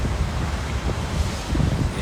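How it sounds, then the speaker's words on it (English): Strong wind buffeting a microphone outdoors, a steady low roar with gusty surges that swell louder toward the end, no talking. "Yeah, it's windy as hell out here."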